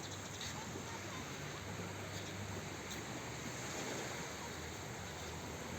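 Sea waves washing onto Cha-am beach in Thailand on a morning at low tide, a steady broadband wash of surf with wind noise, continuous and fairly loud without distinct breaks.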